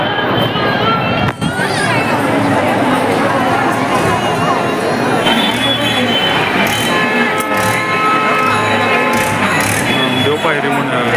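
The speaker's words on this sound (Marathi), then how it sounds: "गर्दी जोरात आहे बाबा भयानक" A large, dense crowd of pilgrims at Pandharpur temple, with loud continuous babble and shuffling footsteps close around, voices of people talking mixed throughout.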